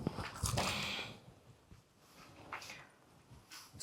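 A small puppy whimpers and yips in short bursts with faint panting between them, close by and at moderate level, in a household setting.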